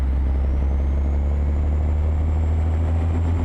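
Steady heavy diesel truck engine in American Truck Simulator, a 3406B, with a deep low rumble held at fairly constant revs throughout and a faint whine rising slightly above, loud and close with no talk over it.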